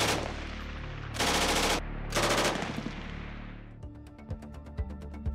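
An MG5 universal machine gun in 7.62 mm NATO fires two loud sustained bursts, followed by a rapid series of sharp separate shots that ring out with echo.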